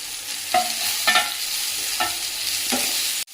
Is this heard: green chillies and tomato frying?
yes